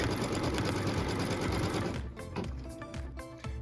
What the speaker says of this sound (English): What we're going to stitch now is a tack down line for piece number 2